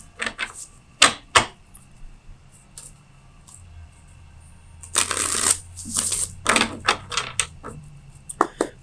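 A deck of tarot cards is shuffled up close in several bursts of crisp riffling and flicking, the longest run coming midway, with brief pauses and soft handling noises between.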